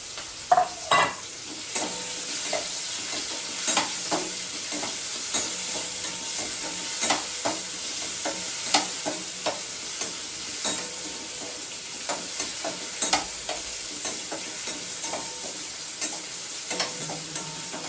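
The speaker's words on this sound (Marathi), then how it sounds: "आणि आता ना ह्या तेलामध्ये मी ही भेंडी टाकते" Chopped okra fries in a generous amount of oil for dhaba-style masala bhindi, with a constant crackling sizzle and repeated scraping, clinking stirs of a spoon against the pan, close and loud.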